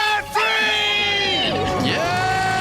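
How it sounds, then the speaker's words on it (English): A studio crowd screams and cheers a loud sustained celebratory roar right after a countdown, voices shrieking and whooping together close up. "Let's hear a debt-free scream."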